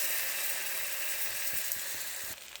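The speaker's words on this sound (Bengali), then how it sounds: "চালটা একটু ভাজা ভাজা হলো" Rice fries in a pan with turmeric, a steady bright sizzle with occasional stirring scrapes, easing slightly at the very end.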